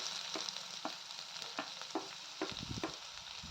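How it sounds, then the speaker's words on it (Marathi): Finely chopped onion sautéing in oil with asafoetida for a sprouted-bean usal, a soft steady sizzle broken by several distinct stirring scrapes, busier toward the end, with no voices. "आता यामध्ये बारीक कट केलेला कांदा घालून घ्यायचा आहे"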